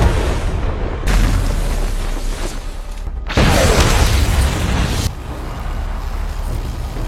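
A rocket explodes in a superhero action film, heard as heavy, booming blasts with debris-laden rumble arriving in distinct loud bursts separated by brief lulls.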